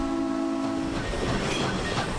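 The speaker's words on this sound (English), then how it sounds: "I love the steam engine" A Frisco steam locomotive train sounds a steady, sustained whistle tone that cuts off after about a second, followed by a broadband rumbling rush of the moving train.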